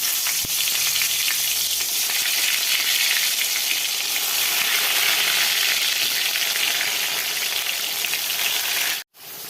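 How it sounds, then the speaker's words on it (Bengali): Eggplant slices fry in hot oil in a home kitchen pan, giving a loud, steady hiss and crackle that carries on for about nine seconds before cutting out briefly near the end. "এখন এই যে বেগুনগুলোকে ভেজে নিচ্ছি"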